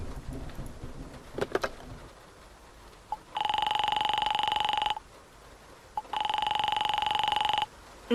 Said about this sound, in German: Das Telefon der Kneipe.